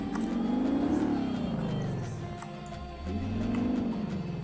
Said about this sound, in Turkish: Çok güzel hırlıyor araba ya